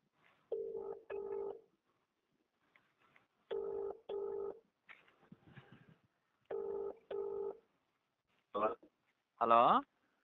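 A telephone line gives off quiet electronic tones: three evenly spaced pairs of short steady beeps, followed by two brief warbling chirps, each standing alone against near silence.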